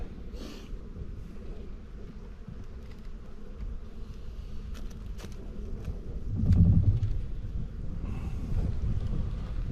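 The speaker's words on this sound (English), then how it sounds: "Looks like we're going to have quite a few bees down there in the bottom as well" Honeybees hum faintly and steadily inside a heavy hive box just out of winter, with wind rumble and a brief louder surge partway through.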